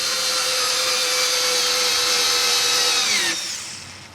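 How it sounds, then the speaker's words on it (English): An electric screwdriver drives a screw into a pre-drilled hole with a loud, steady, high motor whine, close up, then cuts off and spins down after about three seconds. "let's say you're driving a screw like this into a pre-drill hole"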